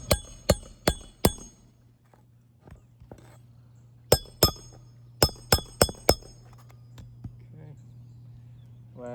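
Hammer blows driving nails into an asphalt composition shingle roof, sharp metallic strikes in two quick bursts of four and a later cluster of five, close and loud over a steady low hum.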